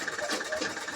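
A sewing machine stitches a Ghana Must Go bag in a quick, steady, close mechanical whirr of needle strokes lasting about a second.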